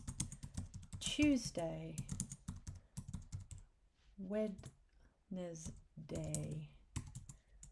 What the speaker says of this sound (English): And then I can type into these individual boxes.